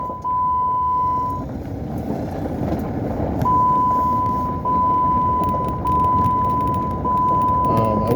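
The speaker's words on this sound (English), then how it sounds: "we're taking the Jeep for the first spin" A Jeep on a test drive after a new transmission install, with steady road and engine rumble throughout and a persistent high whine, close and fairly loud with no speech.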